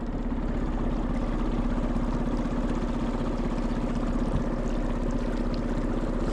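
Boat engine idling at night on water in the Florida Keys during a lobster trip, a steady low droning rumble with constant hum and faint water trickle, continuous and unbroken.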